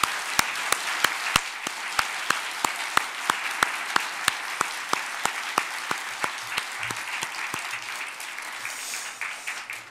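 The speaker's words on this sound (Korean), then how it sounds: "하나님께 영광의 박수를 올려드리겠습니다." A church congregation applauds at a Christmas thanksgiving service. Dense clapping is punctuated by sharp, regular rhythmic claps about twice a second, then thins out near the end.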